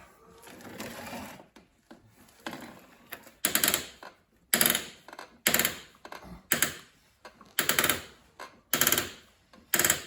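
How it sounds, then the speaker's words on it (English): A screwdriver works stuck sheet metal screws in the aluminum tail light housing of a Porsche 911 Carrera 3.0, making loud, close, rhythmic grinding bursts that repeat steadily in quick succession. "a lot of pressure at the back of it, the screwdriver, while I'm turning"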